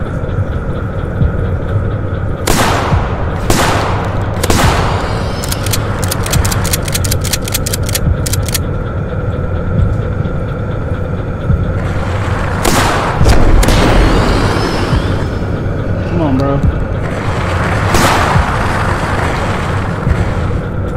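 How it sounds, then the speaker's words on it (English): Gunfire and exploding barrels in a shooting video game: a series of sharp shots and heavy booming blasts spread across the stretch, some clustered in quick bursts, loud over a constant low rumbling background. "I think I really do have to shoot all these barrels"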